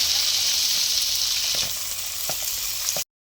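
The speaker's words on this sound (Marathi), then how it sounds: "कांदा टाकून घेऊन कांदा परतून घेणार आहोत" Chopped onion sautéing in hot oil in a pan with curry leaves and garlic paste, a steady loud sizzle with a few faint scraping stirs, cutting off abruptly near the end.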